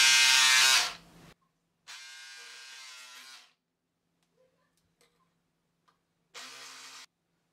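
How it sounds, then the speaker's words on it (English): Dress fabric for the front panel is cut with a buzzing electric cutter, heard as three close motorized bursts of differing length separated by near-silent pauses with faint ticks. "So I will go ahead and cut it out. I will cut the front part."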